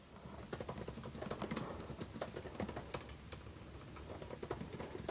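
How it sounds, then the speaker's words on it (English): Rapid typing on an iPad Pro Magic Keyboard (12.9 inch), quick irregular clicks and taps close by, fairly quiet, with no talking. "I am typing with the iPad Pro Magic Keyboard."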